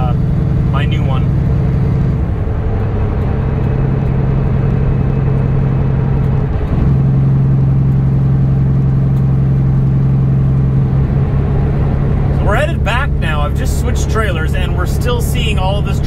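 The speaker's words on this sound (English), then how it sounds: "the engine's working hard pulling me up this hill" A semi truck's diesel engine labours uphill, a loud, steady low drone that shifts pitch slightly partway through, heard close from inside the cab, with someone talking over it near the end.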